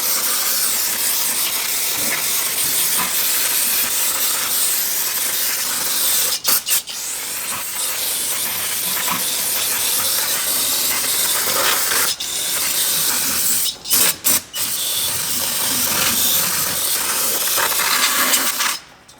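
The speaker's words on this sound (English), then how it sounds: "I kind of like to give everything a little rinse. Use brake clean for that." Brake cleaner sprayed from an aerosol can to rinse Buick LeSabre 440-T4 transmission parts, a loud close hiss running almost continuously with a few brief pauses, sputtering as the can runs nearly empty.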